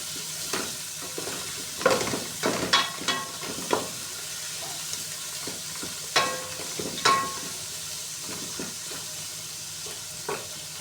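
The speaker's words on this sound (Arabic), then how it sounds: "رشه فلفل اسود كده على البصل اللي بتشوحيها" Onions sautéing in a pan as black pepper is sprinkled over them, a steady close sizzle broken by repeated scraping stirs of a utensil, with no speech.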